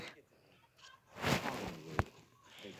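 Chickens in the paper.io game give a short burst of clucking and squawking that swells up in the middle, near and fairly loud, with a sharp click near the end.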